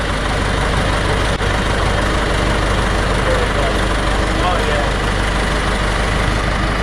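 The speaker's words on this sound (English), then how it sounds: "I'm driving a tractor." A tractor engine drones steadily and loudly throughout, a low constant rumble, with a brief spoken remark over it.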